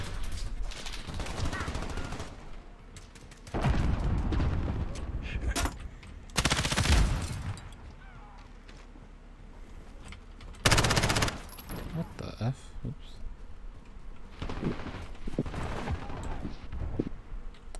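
Call of Duty: Modern Warfare gunfire comes in repeated loud automatic bursts, close and harsh, with quieter stretches of game noise between volleys and speech mixed in.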